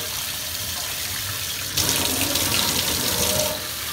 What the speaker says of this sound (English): we're just gonna wash this sponge filter out. A great way to do it is just underneath this running water,